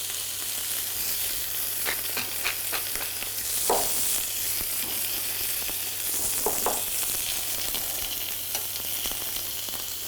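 Lamb noisettes sizzle steadily in a frying pan with a knob of nut-brown butter, a continuous close frying hiss with a few louder spits and crackles and no talking.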